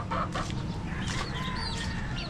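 Chickens cluck repeatedly close by, short choppy calls overlapping against a noisy farmyard background with no talking.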